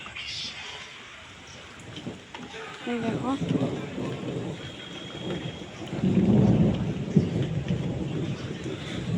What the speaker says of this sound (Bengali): এখনো মেঘ ডাকছে, যে মেঘ ঝিলকাচ্ছে।